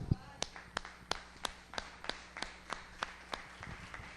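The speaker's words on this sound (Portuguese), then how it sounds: "Palmas ao Senhor." A church congregation claps for the Lord in a steady rhythmic beat, a dozen or so evenly spaced sharp claps, fairly faint and distant.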